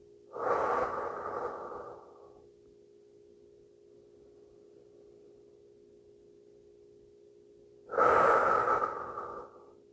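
Two slow, deep breaths during a yoga stretch flow, each a long airy exhale near the microphone, separated by several seconds of quiet with a faint steady background hum.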